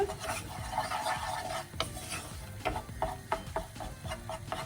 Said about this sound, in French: On va bien mélanger. On a besoin d'avoir un roux, comme on appelle.